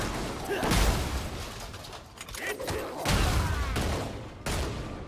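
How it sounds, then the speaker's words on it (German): Three loud, sharp blasts from a shotgun in the video game Lost Ark, evenly spaced, with heavy booming impacts amid dense game noise. "Drei Schüsse hintereinander feuert er."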